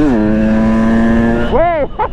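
A 2020 KTM 300 EXC TPI two-stroke motorcycle in sixth gear holds a loud, steady buzzing engine note, then its pitch swoops up and drops briefly near the end.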